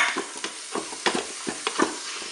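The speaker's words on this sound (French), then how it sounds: "je vais ajouter mes champignons" Mushrooms sizzling and browning in a Cookeo multicooker, with soft intermittent stirring scrapes over a gentle continuous frying hiss, close and moderately quiet.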